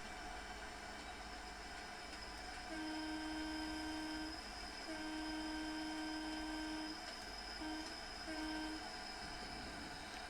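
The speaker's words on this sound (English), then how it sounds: "I am keeping an eye out for whistle signs, so that I do sound the whistle when I'm supposed to" A train whistle sounds in Train Sim World 5 on a Blackpool run, several sustained tonal blasts at moderate loudness, the longest about two seconds, above the low rumble of the moving locomotive.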